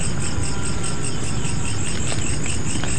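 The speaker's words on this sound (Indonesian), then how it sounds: "banyak suara jangkrik" Crickets chirp densely and loudly at night outdoors, a continuous high trilling chorus with no voices.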